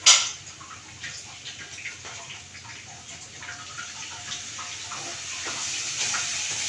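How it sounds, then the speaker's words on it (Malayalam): Hot water pours into a pan of gram-flour curry with onion, garlic and ginger. It opens with a sharp splash and hiss, then becomes a steady, close stream of pouring and bubbling. "ഞാൻ ചൂടുവെള്ളം ഒഴിക്കുന്നത്"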